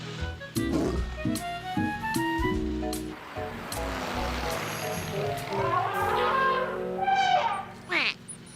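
A cartoon lion lets out a loud, close roar in a children's animated show, followed by a rush of whooshing, watery cartoon effects and tonal sounds.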